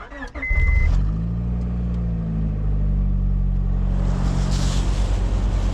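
A truck engine cranks and fires on a frosty morning, then settles into a loud, steady idle as it warms up, close by and with no talking.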